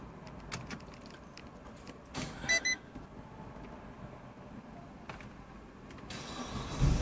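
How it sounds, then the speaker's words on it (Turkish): A Citroen C4 with a newly fitted rear camera and audible front parking sensor starts up: a brief burst of cranking and catching engine noise, a short electronic beep, then a low idle with faint clicks, heard from inside the car. "aracı çalıştırdım."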